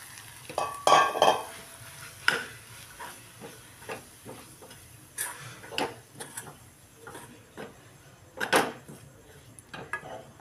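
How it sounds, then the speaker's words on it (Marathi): Gram flour (besan) stirred and roasted in a hot pan, with repeated scraping strokes of a spoon in an irregular rhythm over a soft sizzle, close and fairly loud, no talking. "याच्यामध्ये आपण आता बेसन टाकून देऊया."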